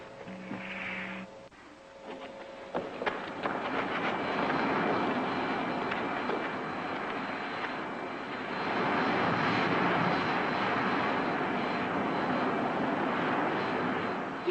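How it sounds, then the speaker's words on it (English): A spacecraft in a retro sci-fi serial comes in to land, its engine a continuous loud roar that builds after a few seconds and grows heavier toward the end, with brief beeping tones at the start. "Handle the landing, Griff."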